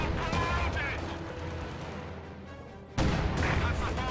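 Anti-tank guns fire in a war video game, a dense roar of booming shots and crackling gunfire, with a sudden loud blast near the end.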